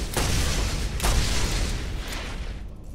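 Heavy booming gunshots in Borderlands, two strong blasts about a second apart over dense, roaring game noise that fades out toward the end.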